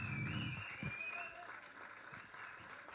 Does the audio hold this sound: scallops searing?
no